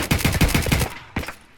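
A quick string of about six gunshots in Escape from Tarkov, evenly spaced and loud, followed by a pause and one more shot.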